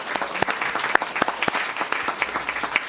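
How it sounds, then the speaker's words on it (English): An audience at a school district board meeting gives a round of applause: loud, close clapping with sharp individual claps standing out in a steady crowd patter. "Let's give them another round of applause."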